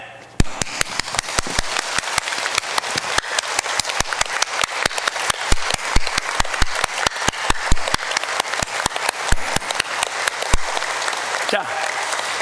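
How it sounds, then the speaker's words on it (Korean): A church congregation rises to its feet for a round of clapping, loud sharp distinct claps in a fast, fairly regular rhythm that continues for several seconds in a reverberant hall. "다 일어나서 한번 이제 장자박수하고 들어갑니다."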